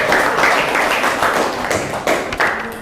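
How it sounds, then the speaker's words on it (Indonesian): A class of students at an Islamic junior high school claps for a student group, producing a short burst of close, dense, uneven hand clapping with a few louder taps near the end. "Tepuk tangan untuk kelompok 1."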